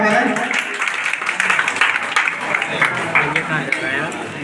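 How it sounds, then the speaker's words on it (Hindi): Audience clapping welcomes a speaker at a school Independence Day program, a dense, steady burst of applause from the gathered crowd, with voices mixed in. "जोरदार तालियों के साथ स्वागत करें।"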